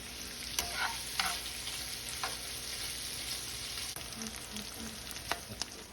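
Bacon frying in a pan, a constant soft sizzle with a few scraping stirs and light taps, close and fairly quiet, no voices.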